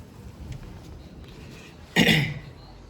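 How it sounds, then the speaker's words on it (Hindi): A single sharp cough or throat clear from a sick man bursts out near the close end, loud and brief against quiet room tone. "खांसी अब भी हो रही है पूरी"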